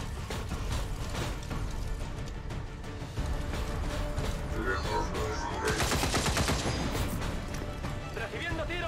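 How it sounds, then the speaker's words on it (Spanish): Rapid bursts of XCOM 2 gunfire crackle and rattle, with heavier volleys midway, mixed with game effects and some speech. "Recibiendo tiros."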